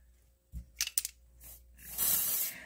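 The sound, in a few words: makeup spray being sprayed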